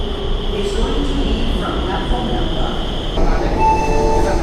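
A train pulling into a railway station, heavy rumbling and rolling wheel noise with a sustained high squeal and a shift in tone partway through, loud and close, with some voices in the background.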